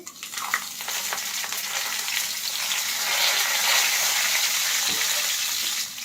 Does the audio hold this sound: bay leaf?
yes